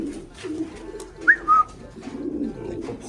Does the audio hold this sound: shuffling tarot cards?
no